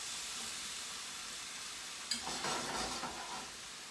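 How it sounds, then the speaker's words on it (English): Food simmers in a pan for a rosemary, grape and brie flatbread, a faint steady hiss that rises into a brief louder sizzle and bubbling before settling back. "those are going to simmer just a little bit"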